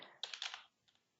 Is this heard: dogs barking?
no